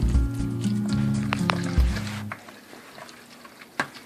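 Chopped octopus salad with bell peppers, cilantro and red onions is stirred in a bowl, giving wet squishing and soft stirring sounds that are close and steady, then tapering off.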